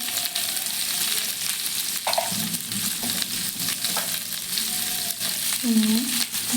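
Potato pieces fry in hot oil with turmeric, a close steady sizzle broken by spatula scrapes and clinks against the pan, with a few louder stirring knocks toward the end.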